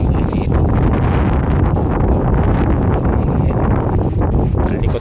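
Strong, steady typhoon wind buffeting the microphone under a bridge, a loud continuous roar with rumbling low end and no pauses throughout.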